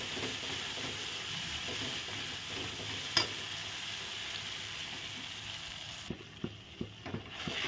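Spice masala sizzles steadily in a frying pan as it is stirred, with a constant hiss and occasional scraping taps of the spoon growing more frequent toward the end.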